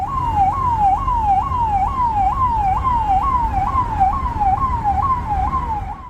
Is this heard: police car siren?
yes